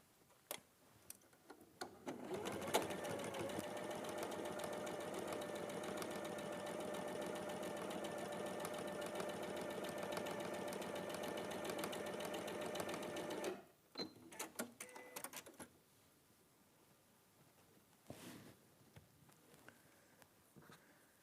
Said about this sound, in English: So we're going to sew these with a 1/4 inch seam.